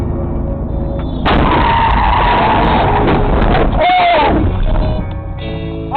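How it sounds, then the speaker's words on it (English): A drunk driver T-bones a car on its right side in Alabama, spinning it 180 degrees. A sudden loud impact just after the start gives way to a sustained harsh roar of scraping and skidding. "a drunk driver suddenly T-boned him on the right side of his car"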